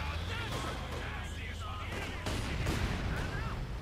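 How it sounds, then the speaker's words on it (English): Mortar fire and battle noise in the video game Company of Heroes 2, with distant thuds and explosions under steady gunfire ambience and a commentator talking over it. "So much mortar fire as well."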